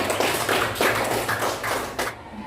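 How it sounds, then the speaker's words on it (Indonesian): Classroom students clapping for a presenting group, a brisk close burst of many hands that fades out after a couple of seconds. "Beri tepuk tangan untuk kelompok 5."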